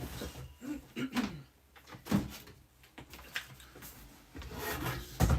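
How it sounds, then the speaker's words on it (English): An acetate sheet is wiped clean with rubbing alcohol, giving soft, intermittent rubbing and squeaky wiping strokes, quiet and close. "I just need to give that acetate a good clean, so it's got a bit messy."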